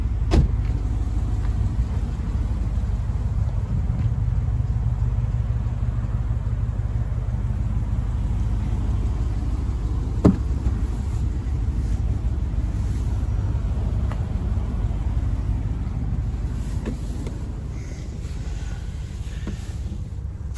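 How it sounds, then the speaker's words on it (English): A 2000 Range Rover Vogue 4.6 Overfinch V8 idles steadily, a low even rumble heard from inside or near the vehicle, continuous and unbroken with no talking. "I'll keep it ticking over so you can hear that engine."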